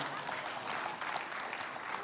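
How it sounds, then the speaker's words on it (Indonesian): Brief burst of clapping from a crowd, moderately loud and steady for about two seconds. "Tepuk tangan buat kita semua."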